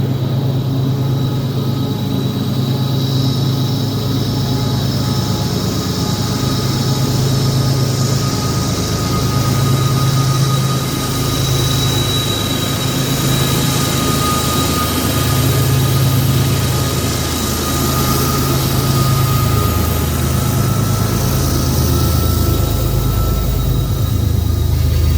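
A heavy CSX freight train led by GE GEVO locomotives rumbles steadily past in Manchester, Georgia, with a deep droning engine and continuous rolling rail noise, loud and close.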